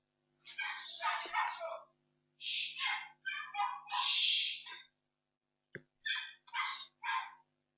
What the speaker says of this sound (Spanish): Por ahí van a escuchar mi bella mascota que ladra.